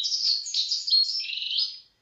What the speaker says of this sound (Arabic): هذا التغريد تاع طائر الدانوك